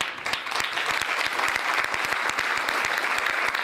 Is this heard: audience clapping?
yes